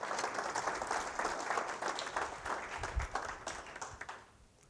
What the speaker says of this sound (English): Round of applause for our two volunteers.